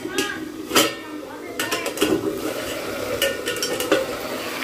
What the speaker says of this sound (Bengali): এই যে পেঁয়াজ কলি ভাজা হচ্ছে দেখো